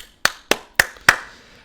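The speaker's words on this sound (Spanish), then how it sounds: "Vamos a aplaudirlo." Four sharp, separate hand claps spaced about a quarter second apart, close and clear with no voices, as a small welcome during a Spanish news and analysis broadcast.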